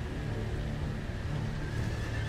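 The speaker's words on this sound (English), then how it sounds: "It was a horse!" A horse in Telltale's Game of Thrones game whinnies over a steady, low rumbling background, the call stretched and wavering for a couple of seconds.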